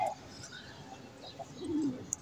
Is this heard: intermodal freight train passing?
no